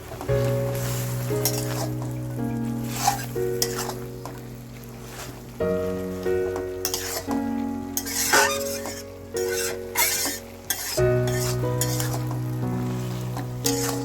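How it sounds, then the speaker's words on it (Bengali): Spice masala with tomato is stirred in a sizzling pan, with scraping strokes over a steady fry and a sustained tonal hum in the background, close and without speech. "তো এভাবে একটু নেড়ে চেড়ে নিচ্ছে মশলাটা দেখুন যাতে দলা পেকে না থাকে"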